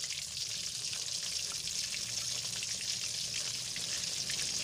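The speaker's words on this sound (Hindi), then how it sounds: "फिश जो है माशाल्लाह अच्छी तरह फ्राई हो चुकी है" Fish frying in ghee in a pan, a steady, dense crackling sizzle held evenly throughout at close range, with no voices.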